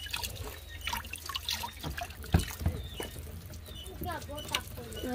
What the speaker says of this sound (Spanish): Y agarra agua, el agua camina para acá.